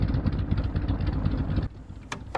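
A seven-litre V8 car engine idles in BeamNG.drive with a low, lumpy rumble like a tractor. It holds steady, then drops off suddenly near the end, leaving a faint bit of noise.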